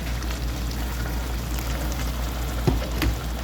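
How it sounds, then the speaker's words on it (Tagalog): A little water poured into a hot pan of igado, pork liver stew, making a steady hiss and bubbling with a couple of soft clunks, moderately loud and close, with no talking. "Ngayon, lagyan natin ng konting tubig."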